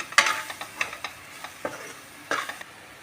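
Gram flour roasting with onions in a pan, stirred with a spoon that scrapes and taps the pan in irregular bursts over a faint sizzle.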